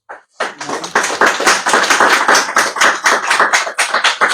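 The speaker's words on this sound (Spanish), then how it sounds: "Un aplauso para el maestro." Clapping from a book-launch audience in Bogotá greets a teacher, loud and close, with rapid irregular hand claps starting abruptly and continuing steadily for about four seconds.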